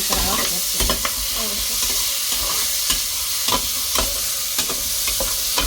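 Tomatoes fry and sizzle in a pan for a Tamil poricha kuzhambu, with a spoon repeatedly scraping and stirring through them in close, steady strokes and no talking.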